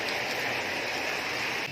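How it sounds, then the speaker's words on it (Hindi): Heavy monsoon rain pours down in a dense, steady hiss, loud and close, continuous throughout with no voices. "प्रबल वर्षा होची"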